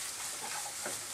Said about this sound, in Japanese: ここでちょっと玉ねぎが、玉ねぎが透き通ってくるくらいまで炒めたいと思います。